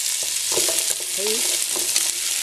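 Chop suey vegetables, carrot and celery among them, being stirred in a pan, with a spatula scraping and knocking in a steady rhythm over a soft, constant sizzle, close up and without talk.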